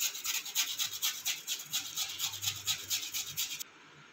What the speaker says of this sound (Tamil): இப்போ நம்ம கேரட் சீவறதை எடுத்துக்கலாம் அதில் நம்ம கிழங்கு நல்லா சீவி எடுத்துக்கலாங்க